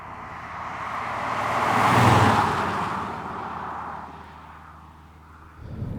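A 2020 Audi S4 diesel accelerating hard, a broad engine roar swelling to a peak and then easing as it pulls through the gears, heard alone with no talk, with a brief fresh surge at the very end.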